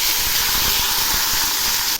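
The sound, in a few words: rohu fish sizzling in hot mustard oil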